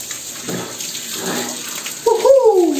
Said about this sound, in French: on va se laver. Ah, l'eau fraîche